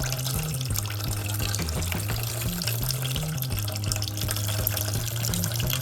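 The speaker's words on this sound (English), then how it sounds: "You can rinse it thoroughly 2 or 3 times very quickly." Running tap water splashes steadily into a sink as rice is rinsed in a strainer, a continuous close wash of water with a low hum underneath and no talking.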